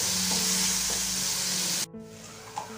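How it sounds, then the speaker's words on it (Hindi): Chopped medium onion frying in a pan for a low-oil fish masala curry, a steady loud sizzle with faint stirring that drops abruptly near the end, then continues quieter. "अभी हम इसको तलाएंगे जब तक कि ऑनियन फ्राई नहीं हो जाते।"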